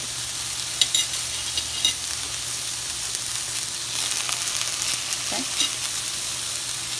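Garlic and butter sizzle steadily in a pan with occasional scrapes of stirring, close and loud, while a voice briefly speaks.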